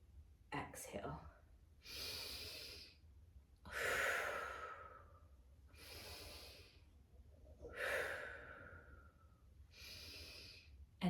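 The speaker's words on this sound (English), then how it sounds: "you're inhaling on the way down and then exhaling your body back up on the more challenging part of the movement" Deep paced breathing during a prenatal core ab workout, with about six slow, audible inhale-exhale cycles in a steady rhythm, close and breathy with short pauses between breaths.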